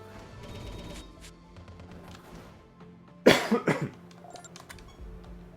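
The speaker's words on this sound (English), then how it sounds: "sorry about the coughing" A few quiet clicks and taps, then a sudden burst of harsh coughing, three or four rapid coughs close up, trailing off into quiet.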